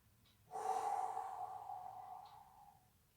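Slow, audible breathing during a yoga session, one long airy exhale swelling and fading over a few seconds, close and alone in a quiet room.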